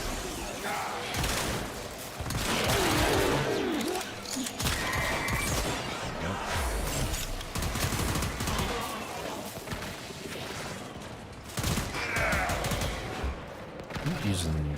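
Rapid gunfire in the video game Warframe, dense bursts of shots and impacts running continuously and loudly, with someone talking over the action.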